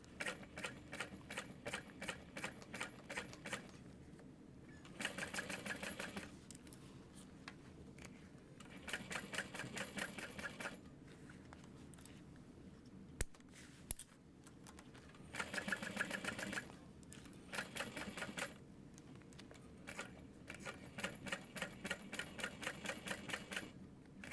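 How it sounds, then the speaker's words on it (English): A sewing machine topstitching a bag, running in several short and long rapid stitching bursts separated by pauses, quiet and close, with no talking. "I need to make sure I change my bobbin before I top stitch."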